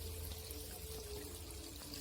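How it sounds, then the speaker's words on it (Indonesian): Water flows steadily through a silkworm (tubifex worm) holding tank, a constant close trickling and pouring wash with no talk. "mulai dari sana air mengalir menghubungkan terus."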